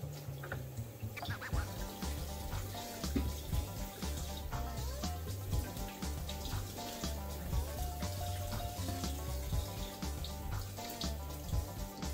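Potatoes are washed under a running kitchen tap, with water splashing and gurgling steadily and close, punctuated by the knocks and rubs of potatoes being handled.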